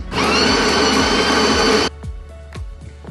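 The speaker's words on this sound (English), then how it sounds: "We're gonna go ahead and grind." DeLonghi La Specialista Maestro espresso machine grinding coffee beans, a loud close whirring grind lasting under two seconds, then stopping abruptly into a few light clicks and clunks.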